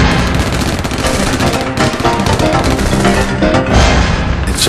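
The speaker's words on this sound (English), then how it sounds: "The sound of gunfire." Dense, continuous gunfire with rapid bursts and booms, loud and close, forming a chaotic barrage with no pauses.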